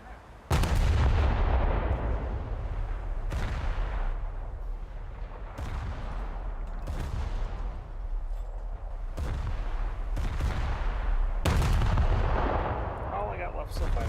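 Repeated heavy naval gunfire in a video game as shots hit a battleship, loud booming volleys recurring every couple of seconds over a continuous rumbling roar.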